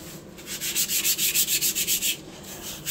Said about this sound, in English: you can get a 1500 grit sandpaper, which is like very, very fine. And then you can go ahead and do one this way, and then one sideways, and then also crisscross.